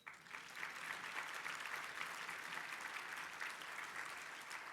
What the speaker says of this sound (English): Now, you guys can applaud that.